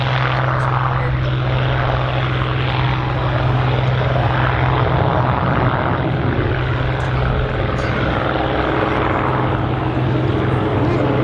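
Hawker Hurricane Mk XIIb WWII fighter of the Finnish Air Force taking off at an air show in Oulu, its engine a loud, steady, continuous drone with a strong low hum throughout.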